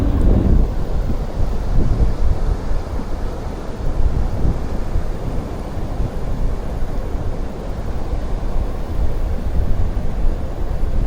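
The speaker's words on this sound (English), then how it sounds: "It was a little windy today" Strong wind buffets the microphone in a steady, loud roar while fishing at Cape Fear, with a low rumble that could be surf underneath.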